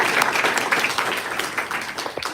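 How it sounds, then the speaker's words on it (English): An audience applauds a man named Tim after he is asked to stand, giving dense, continuous clapping at steady loudness for the full stretch, with scattered voices mixed into the crowd noise. "and you give him a big round of applause"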